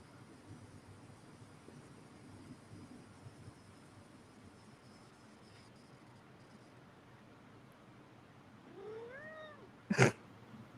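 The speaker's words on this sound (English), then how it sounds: "My cat is yelling into my microphone for some reason." A pet cat yells and meows right into a microphone: a rising wail near the end and then a sharp loud burst, after a long stretch of quiet hiss.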